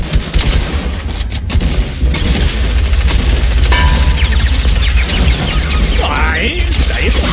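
Fortnite gunfire: dense, loud bursts of shots and crashes fill the whole stretch, with players talking over the constant battle noise.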